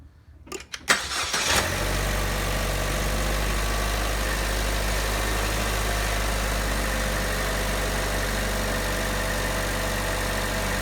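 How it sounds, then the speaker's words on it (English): A car engine cranks briefly on the starter, catches and settles into a steady, close idle during a battery starter test with an Autel AL539 OBD2 scanner connected, running on alone with no talk. "It's gonna tell us to go start the car"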